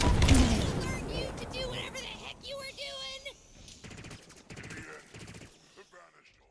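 Gunfire in the video game Halo Infinite, a loud burst of rapid shots at the start that fades into scattered impacts and game effects, with game voices and sounds continuing.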